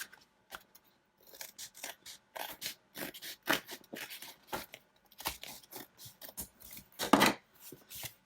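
Paper is cut for a Holly Hobbie journal, with a quick series of crisp snipping and rustling bursts in uneven rhythm, close and moderately loud, with one louder crunch near the end.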